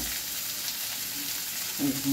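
Poppy seeds frying in a pan for Bengali aloo posto, a soft steady sizzling hiss at low level, close by, with a faint clink near the end and no talking.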